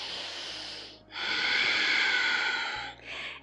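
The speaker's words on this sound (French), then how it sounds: "Une dernière respiration profonde." One slow, deep breath during a seated chair-yoga session: a long airy inhale or exhale, close and soft, followed by a shorter breath at the end, with no talking.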